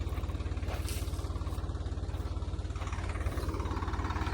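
A Swaraj 744 XT tractor pulls a plow through hard, dry soil in a chickpea field. Its diesel engine gives a loud, close, steady chugging pulse that runs the whole time with no talk over it.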